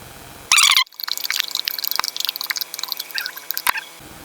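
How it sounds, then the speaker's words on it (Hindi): Cooking oil poured into a spiced chicken marinade, beginning with a brief bright burst and then a run of close, irregular drips and splashes that trail off over a few seconds. "थोड़ा सा कुकिंग ऑयल डालेंगे।"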